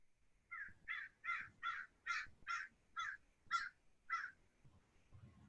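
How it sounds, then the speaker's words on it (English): A crow caws about nine times in a steady, evenly spaced series, each call harsh and fairly close against a quiet background. "I guess the crow approves."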